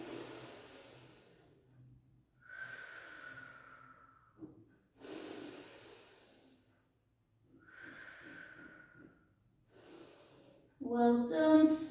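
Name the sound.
deep breathing during a barre exercise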